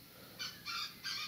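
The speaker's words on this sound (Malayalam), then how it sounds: "ഇവിടെ ഫുള്ള് കിളികളുടെ ശബ്ദങ്ങളും" Three short honking bird calls in forest near a jungle resort, evenly spaced and fairly faint against a quiet background, consistent with junglefowl or similar fowl.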